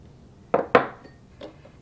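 A spoon stirs lavender essential oil into melted candle wax in a teacup, giving two sharp close clinks in quick succession, then a softer third tap a moment later, with no voices.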